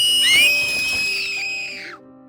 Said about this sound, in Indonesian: Makhluk itu meniup peluit yang tadi menghilang